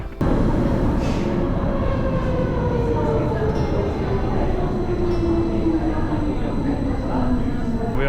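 A Jungfrau railway train at a station, with a loud, steady rolling rumble and a slowly falling motor whine throughout, plus faint high electrical tones.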